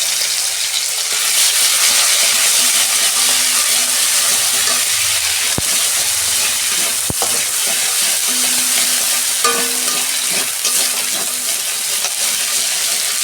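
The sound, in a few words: frying fish with ginger garlic and dried chili paste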